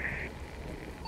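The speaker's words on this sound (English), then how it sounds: "Is it raining for you?" Rain falls steadily in American Truck Simulator, a dense close patter with low rumbling texture over about a second, with no voices.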